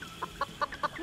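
A chicken in the Roblox video game clucks in a quick series of about five short, clipped bursts at moderate volume, with no other sound around them.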